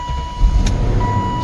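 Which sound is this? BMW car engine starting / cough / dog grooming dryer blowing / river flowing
BMW car engine starting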